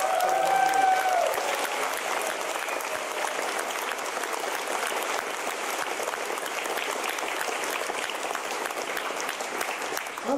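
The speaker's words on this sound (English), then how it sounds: "I think our registration team deserves a round of applause" Convention crowd at a furry fan gathering's opening ceremony gives the registration team a long, steady round of applause, dense clapping from a large hall that holds evenly for ten seconds.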